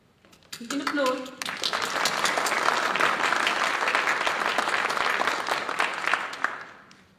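Applause for a graduate at a Creative Technologies class of 2020 ceremony, starting with a brief voice before dense crowd clapping builds and continues steadily, tapering near the end.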